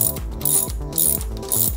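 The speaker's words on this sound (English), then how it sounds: "I got my torque wrench set to that, and we'll go ahead and tighten it up here" A torque wrench tightens the top bolt on an R35 GTR suspension during a lowering spring install, giving close, sharp ratcheting clicks in three or four quick strokes with no talking.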